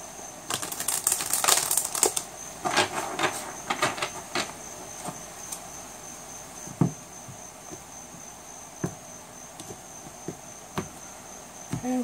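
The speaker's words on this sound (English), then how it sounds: "Give it one last shuffle." Tarot cards from a psychic oracle deck are shuffled in a quiet room, a run of crisp riffling flicks and papery slaps in the first few seconds, then sparser single card snaps spaced out, with no voices.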